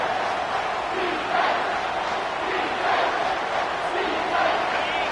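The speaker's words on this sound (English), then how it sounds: "Here comes this home crowd as the defense tries to get off the field on third down." A home crowd at a college football game between USC and Ole Miss roars steadily as the defense faces third down, a broad, sustained stadium din with swelling surges every second or so.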